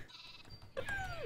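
Sheep from the Minecraft video game, a short wavering bleat rising out of a muffled background, fairly near and moderately loud.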